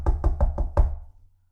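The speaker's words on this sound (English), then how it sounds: "his friend knocked on the door" Knocking on a door as a sound effect in a story reading: five firm, evenly spaced raps close by, then a short fading tail into silence.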